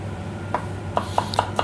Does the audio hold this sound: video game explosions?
no